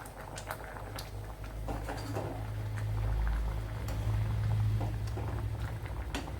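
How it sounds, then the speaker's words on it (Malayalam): Chickpea curry (kadala curry) bubbling as it thickens in a pot, with soft irregular pops and plops over a low rumble, close and steady throughout. "നമ്മുടെ കറി ഇവിടെ തിളച്ച് നല്ലതുപോലെ കുറുകി വന്നിട്ടുണ്ട്."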